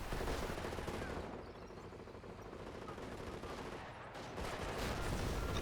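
Sustained machine gun and rifle fire rattles loudly and continuously through a World War II style strategy game battle, with dense overlapping bursts that dip briefly in the middle and swell again near the end.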